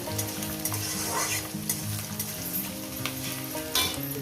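Chopped onions fry in a pan for an eggplant and Bombay duck chorchori, a loud continuous sizzle under steady scraping and clattering of a spatula stirring against the metal, close up with no voices.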